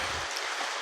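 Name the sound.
heavy rain outside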